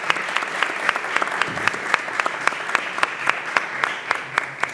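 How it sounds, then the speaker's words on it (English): An audience at an industry roundtable applauds a panelist, with steady, moderately loud clapping from a modest crowd that continues evenly for several seconds with no talk. "So a big round of applause to Filipe"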